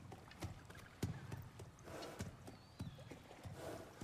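Hooves of a horse in God of War Ragnarök clop in an uneven walking rhythm, quiet and close, with soft snorting and a brief whinny mixed in.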